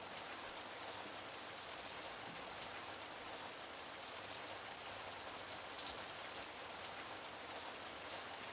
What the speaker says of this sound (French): avec la pluie qui tombe